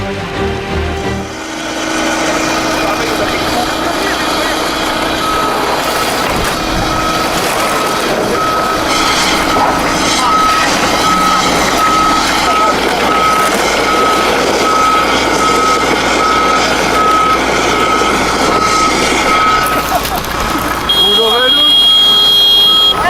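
Dump trucks reverse with steady repeating backup beeps on a snowy Siberian road, where two dump trucks and a bulldozer work to pull out a stuck vehicle; loud, continuous engine rumble runs beneath the beeping, with voices now and then.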